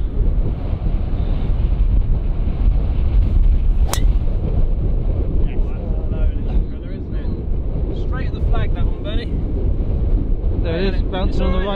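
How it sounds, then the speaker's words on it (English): Strong wind on a golf course buffets the microphone in a constant heavy roar, with a few faint voices and sharp knocks breaking through. "And very windy."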